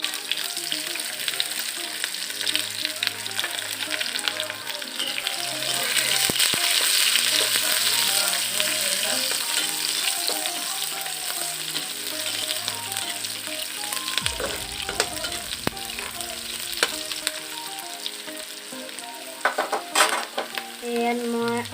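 Onions frying in hot oil with panch phoron and whole cumin, a dense continuous sizzle close by with occasional stirring clatters and knocks across the long stretch, no speech.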